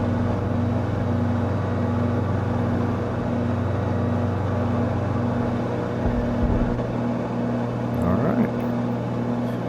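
A light aircraft engine drones steadily at full power during the climb-out after takeoff, a constant loud hum heard from inside the cabin, with a voice talking over it.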